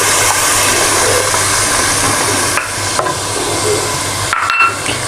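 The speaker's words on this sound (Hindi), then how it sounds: "गैस को कम करके बिल्कुल हल्की आंच पे फिर आपने दही डालनी है।" Whisked yogurt goes into a pan for a potato and egg curry and is stirred over low heat, giving a steady loud sizzle with occasional spoon scrapes and knocks against the pan.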